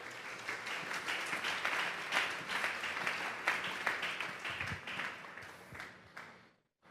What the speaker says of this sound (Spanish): Démosle un fuerte aplauso pues al Señor